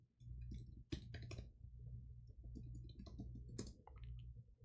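Keys clack on a computer keyboard during a coding session, a brief run of close taps in two or three short bursts over a low hum, with no talk.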